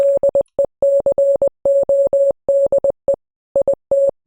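Steady electronic Morse code beeps from the game Friday Night Funkin' in short and long pulses, loud and clean with irregular gaps between groups.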